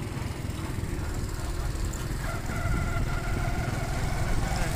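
A turbine driven by a tractor runs inside a room on a farm, giving a steady, loud mechanical drone with a continuous engine-like rumble throughout, no talk over it.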